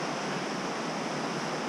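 A river flows in a snowy valley, giving a steady, loud broadband rush of water with no talking.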